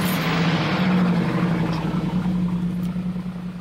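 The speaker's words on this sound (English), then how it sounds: "Hear that engine?" A car engine hums steadily from inside the vehicle, a low droning tone with a faint pulsing rumble, fairly close and alone without speech.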